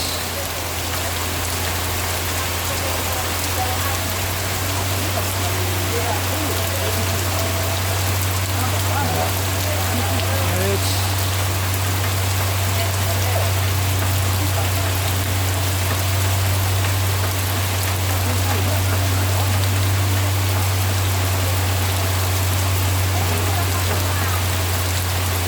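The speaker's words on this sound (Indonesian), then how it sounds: "Hujan deras." Heavy rain pours down without a break, making a dense and loud wash of sound, while a truck carrying electric poles idles with a deep, steady engine drone beneath it.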